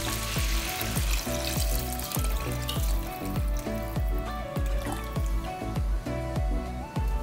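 Chicken stock pours steadily into a hot cooking pot, a continuous splashing rush mixed with sizzling, with a rhythmic low knocking throughout.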